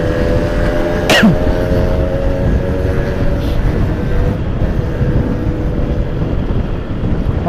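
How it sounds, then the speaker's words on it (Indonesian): A person gives one sharp, close cough early on during a motorbike ride on a Bali mountain road, set against a constant engine drone and wind noise. "Maaf teman-teman, sedikit batuk ya."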